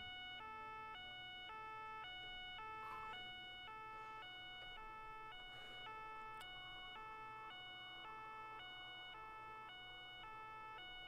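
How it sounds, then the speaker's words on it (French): In the Arma video game, an emergency vehicle's siren wails in a steady two-tone pattern, switching pitch roughly every half second without a break. A low rumble sits underneath, the level stays modest and even, and no one speaks. "Je vais péter un câble avec cette sirène."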